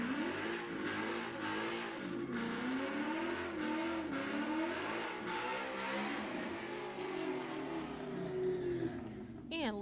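A Ford Mustang and a Ford F100 launch off the line at an All Fast Fords drag race, a loud engine note climbing and wavering through gear changes with sharp crackles, heard under an announcer's voice.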